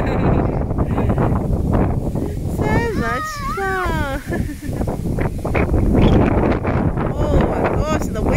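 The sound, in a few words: wind blowing at a playground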